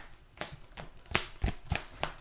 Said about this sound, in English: And then we shuffle this encounter deck.